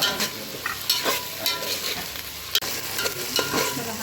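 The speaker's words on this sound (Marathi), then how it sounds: "टोमॅटो टाकला परत आणि हे चांगलं परतूया" Onion, garlic and tomato sautéing in a pan for a dal batti meal, with a bright sizzle under frequent brisk stirring and scraping clacks, heard close and alone.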